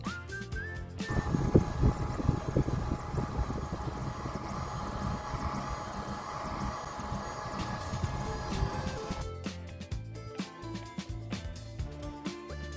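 An Algolaser DIY Kit MK2 10W laser engraver engraves colour-coated metal, its motors giving a steady buzzing, whirring hum with rapid stepping ticks for about nine seconds. Quieter, irregular mechanical clicks follow.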